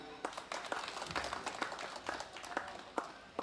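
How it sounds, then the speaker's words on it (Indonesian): Scattered applause at a police ceremony in Indonesia, individual claps standing out sharply over a faint background, fairly quiet and sparse. "Tepuk tangan."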